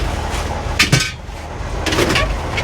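Inside the cab of a 68-year-old REO dump truck, the headliner is ripped down in two short bursts of tearing and clattering, a sharp clunk at the start and a rougher rip later, close and loud over low background noise.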